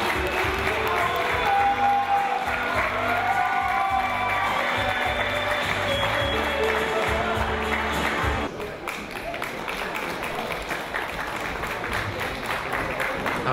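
A crowd at a Miss Polonia USA pageant claps and cheers loudly for several seconds before the applause thins out and settles into a softer, scattered clatter.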